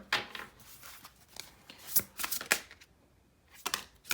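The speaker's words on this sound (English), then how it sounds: "I always shuffle my card and put it back into the deck, the box" Light Seer tarot cards being shuffled by hand in quick, crisp riffling bursts with short pauses between, close and fairly quiet, with no talking.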